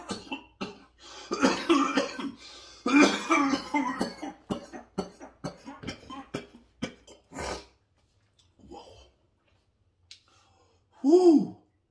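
Someone talks and then breaks into a burst of harsh, repeated coughing after smoking the Purple Ice Cream Cake cannabis strain, loud and close, followed by quiet and a final gasping exhale.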